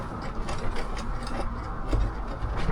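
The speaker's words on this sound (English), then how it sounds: "So I'm plugging in the cable to the SWR meter." A cable is plugged into an SWR meter for a Cobra 29 LTD CB radio, with small clicks and a grinding, ratchety twist as the connector is screwed in, close and steady for a few seconds.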